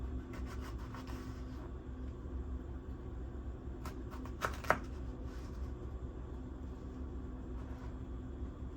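Knife slicing a chili pepper into strips on a board, a series of soft close cuts and taps over a steady background hum, with no talking.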